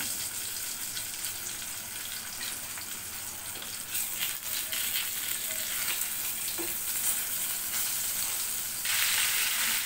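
Catla fish frying in oil in a wok, a steady, close, bright sizzle and crackle throughout, with occasional stirring noises and no talk.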